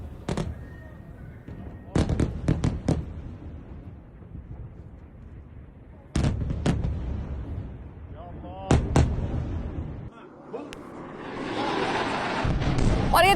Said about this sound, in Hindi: और ये देखिए, एक के बाद एक ऐसे ही धमाके हो रहे हैं।